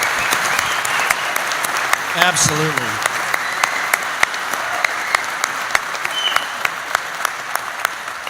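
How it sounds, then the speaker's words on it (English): Audience applause for a sheriff and his deputies at a community gathering, steady dense clapping filling the room, with a brief spoken word from someone partway through. "let's give the sheriff and those deputies a round of applause"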